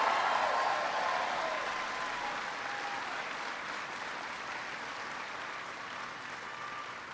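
Sustained crowd applause for Senator Claire McCaskill at a political rally on the economy in Kansas City, Missouri, a dense wash of clapping that starts loud and slowly tapers while continuing steadily throughout.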